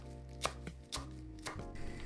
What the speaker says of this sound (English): Cut half an ounce of cilantro into sections.